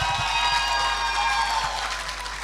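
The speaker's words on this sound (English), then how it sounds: "Give another round of applause, please." Audience applause fills a banquet hall at a judiciary awards and recognition banquet, a steady, fairly loud wash of clapping that holds evenly throughout with a faint crowd murmur beneath.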